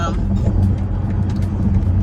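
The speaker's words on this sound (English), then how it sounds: "I just got in the car" Steady low engine and road rumble from inside a moving car, a constant hum with faint road noise throughout, and no other distinct events.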